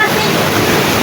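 Water of Lambingan Falls in the Philippines pours in a loud, steady rushing roar, close and continuous with no break.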